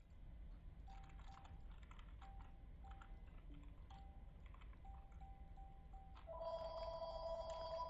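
A telephone in the Plane Crazy game rings near the end, a steady electronic trill rising over a constant low background hum after several scattered short beeps.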